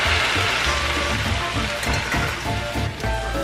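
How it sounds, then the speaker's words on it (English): Noodles sizzle and hiss steadily in a hot pan with stir-fry vegetables, a loud, continuous frying crackle close by. "Okay guys, I'm gonna be adding the noodles now."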